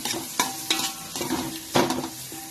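Chopped onion and a large tomato frying over high gas in a pan, with soft sizzling broken by several scraping stirs of a spoon against the metal, close and alone.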